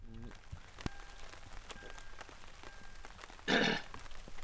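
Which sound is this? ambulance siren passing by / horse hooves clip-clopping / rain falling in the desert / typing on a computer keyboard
rain falling in the desert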